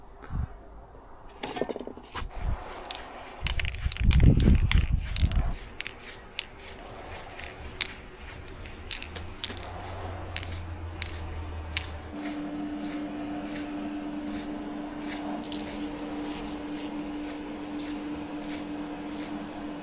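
Repeated short hisses of an aerosol spray can, quick bursts in an irregular rhythm, close to the microphone, with some rubbing and shuffling noise.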